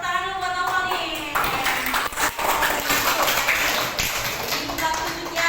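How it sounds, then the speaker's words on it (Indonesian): A classroom group applauds a student named Noval with loud, continuous clapping from many hands, close by and steady, with some voices mixed in. "yang tepuk tangan dulu buat Noval nih"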